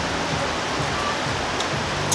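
Steady rain falls outside, a constant broadband hiss of drops with no breaks, moderately loud and even throughout, with no voices over it.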